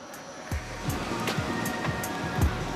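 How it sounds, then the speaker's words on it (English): Heavy rain pours steadily at an outdoor climbing competition, a dense continuous wash of water noise with scattered low thumps and knocks. "it poured with rain, hasn't stopped raining"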